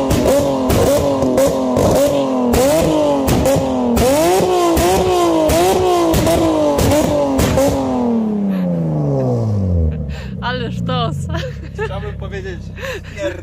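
A Nissan 370Z with a flame map and Tomei exhaust revs loudly and repeatedly, each rise in pitch falling back, before winding down to a lower idle with sharp crackling pops; constant and close.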